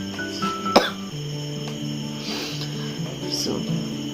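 A person with a heavy, stubborn cough hacks once sharply, followed by softer throat sounds, close to the microphone in a quiet room.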